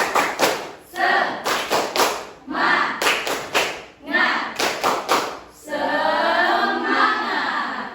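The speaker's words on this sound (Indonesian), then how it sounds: "Oke, are you ready? Yes. Tepuk semangat." A classroom of standing students performing a rhythmic group spirit clap, loud synchronized claps and thumps in patterned bursts with short pauses, ending in a sustained shout of many voices.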